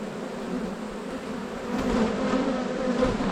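Honey bees buzzing steadily around an open hive during a honey harvest, a dense continuous drone that swells slightly louder partway through, close by with no talking.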